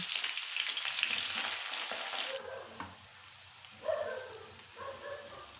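Mustard seeds and cumin crackling and frying in about half a cup of hot oil, a dense sizzle that fades into quieter spluttering with a few stirring scrapes, close and alone.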